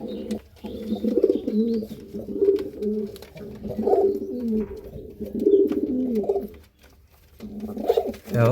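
Silver Sirazi pigeons in a cage cooing loudly and close by, repeated throaty coos in bursts with brief pauses between them and no talking.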